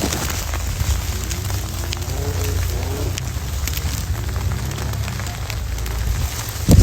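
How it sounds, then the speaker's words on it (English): Snow hitting an old tent during a June blizzard, a steady dense patter and hiss on the fabric that keeps going without a break, close and fairly loud, with a brief louder rustle at the very end. "It's snowing on us."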